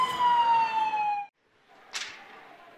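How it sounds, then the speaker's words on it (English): A loud goal siren blares at an ice hockey rink during a Colgate versus Dartmouth college game, holding a steady wail for just over a second before cutting off, followed by a burst of crowd noise. "Here comes the siren,"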